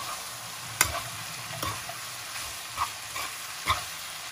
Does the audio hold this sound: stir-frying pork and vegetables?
yes